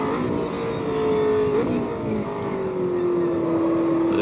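McLaren 720S GT3 race car engine in Automobilista 2 on the Nordschleife, a steady loud drone with rising pitch sweeps as it revs through gears, one shift dip midway, heard alone.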